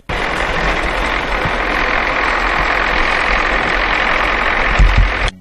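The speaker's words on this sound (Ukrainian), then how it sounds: "Ось і нашій знімальній групі вдалося зафіксувати черговий рейс трактора з повним причепом відходів" A tractor hauling a full trailer of waste drives past with a steady, broad engine rumble and road noise, loud and continuous, with a brief thump near the end and no voices.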